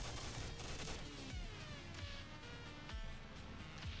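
Video game turrets fire in a dense, continuous barrage of rapid shots with scattered heavier thumps and booms, steady and fairly faint in the mix, with no voices.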